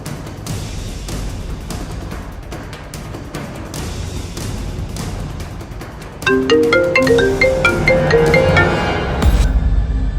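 A phone ringtone chimes in a repeating melodic pattern, entering abruptly partway through after a stretch of tense background score and continuing loud and clear to the end.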